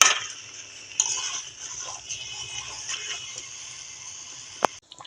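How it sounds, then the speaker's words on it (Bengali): Potatoes and chicken stir-fried in a pan, a steady low sizzle with faint scraping and a few clinks of a spoon against the pan, one sharper knock near the end, no voices. "আলু আর মাংস একসাথে এখন কষিয়ে নিব"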